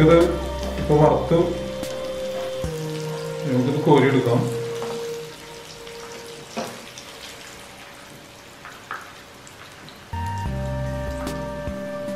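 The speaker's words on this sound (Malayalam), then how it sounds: "ആ എണ്ണയിലേക്ക് നമ്മൾ വീണ്ടും ഈ ചിക്കൻ ഒന്ന് ഡീപ് ഫ്രൈ ചെയ്യാനായിട്ട് ഉപയോഗിക്കുകയാണ്." Chicken deep frying in oil for honey glazed chicken, a busy crackling sizzle heard up close, interrupted by a pause in the middle, with a person talking over it.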